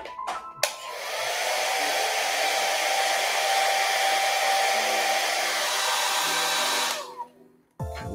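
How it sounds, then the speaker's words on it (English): A hair dryer blows in a steady, loud whirring rush for several seconds, with a switch click at the start and a wind-down at the end. "A little hair dryer."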